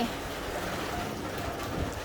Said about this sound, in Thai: ฝนตกทุกวันเลยแต่ตกไม่เยอะ